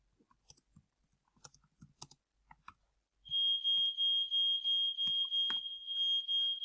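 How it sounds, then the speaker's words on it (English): A fire alarm goes off in a quiet room, starting with a steady, loud, piercing continuous tone about halfway through, after a stretch of faint clicks and small knocks. "That was a fire alarm going off."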